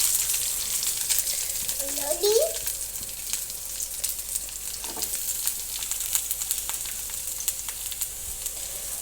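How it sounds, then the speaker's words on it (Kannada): Green chilies, garlic and onion frying in a pan for chutney to go with ragi dosa, a soft continuous sizzle with a few faint stirring scrapes, moderately close with low background noise. "ಸ್ವಲ್ಪ ಹಸಿಮೆಣ್ಸಿಕಾಯಿನ ಹುರ್ಕೋಬೇಕು, 1 ಗೆಡ್ಡೆಯಷ್ಟು ಬೆಳ್ಳುಳ್ಳಿ"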